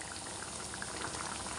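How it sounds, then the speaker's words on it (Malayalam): Coconut milk fish curry, karimeen pappas, bubbling at a steady boil in a pot, a dense continuous simmer of small pops and gurgles heard close up with no talking. "ഇതല്ല വൃത്തിയായിട്ട് തിളച്ച് വരുന്നുണ്ട്"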